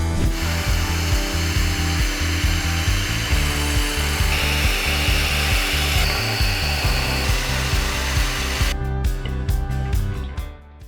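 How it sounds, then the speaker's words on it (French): A 12-volt cordless handheld circular saw cuts through wood during coffee-table building: a loud, steady whine with rhythmic low pulsing runs for about nine seconds, then the blade spins down and the cut ends. "Je fais la coupe avec la scie circulaire à main de 12 volts."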